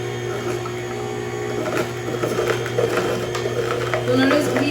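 A KOIOS slow masticating juicer grinding carrots, a steady mechanical hum and whir close by with irregular crunching and squeaking as the produce feeds through.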